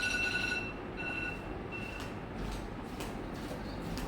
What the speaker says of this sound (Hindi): ये रिकॉर्डिंग जब मैं कर रहा हूँ तब 7:30 का एक अलार्म लगा हुआ था इसमें